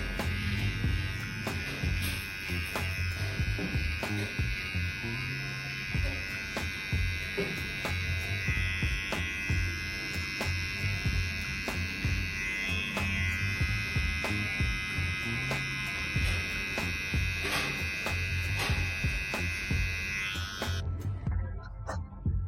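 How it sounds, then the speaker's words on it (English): A Hair Clippers brand electric trimmer buzzes steadily while cutting hair for a high fade. The bright motor whine stays close and constant with small clicks and ticks, then cuts off sharply at the end. "I will do it in this case with the new trimmer I just uploaded unboxing."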